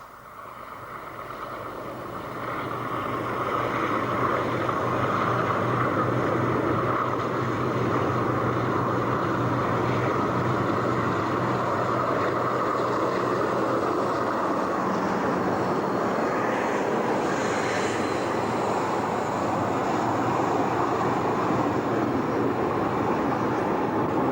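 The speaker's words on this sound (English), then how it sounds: "Here comes the train" A train on the North Coast Railway line approaches, a steady loud rumble with a heavy low-end drone that swells in over the first few seconds and holds, with a faint higher hiss brightening briefly near the end.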